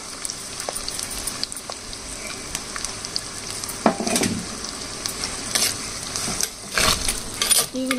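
Four chopped onions and five slit green chilies fry in hot oil, sizzling steadily up close while a utensil stirs and clinks against the pan in several sharp bursts near the end.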